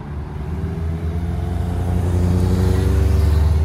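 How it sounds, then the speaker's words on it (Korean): A motorcycle pulls away and passes by, its engine note building steadily from a low rumble to a louder, closer drone over a few seconds, with no voices. "여기 출발하는 오토바이 지나가면서."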